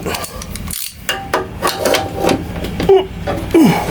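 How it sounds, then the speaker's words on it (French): A socket ratchet loosens a hidden screw on a Wolf motorcycle, with a few quick mechanical clicks and scrapes heard close up amid handling noise. "Je vais desserrer l'autre avec l'autre douille."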